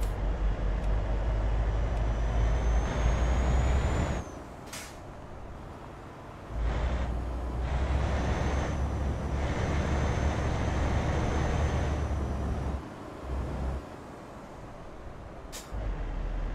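An Iveco Hi-Way 420 truck with a 12-speed gearbox in a driving video game pulls out of a city: a steady low engine drone, with short sharp air-brake hisses near the start and end.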